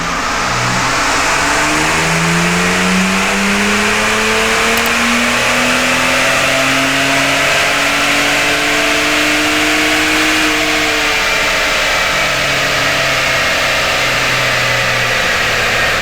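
A Ford Bronco Raptor truck's engine on its stock factory tune revs steadily for about sixteen seconds, the pitch climbing and easing in long sweeps over a loud, continuous mechanical drone, with no voices.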